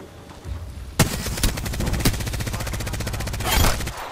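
Rapid automatic gunfire in Apex Legends, loud and close, with several sharp shot bursts over a fast, continuous rattle of rounds and a final heavier volley.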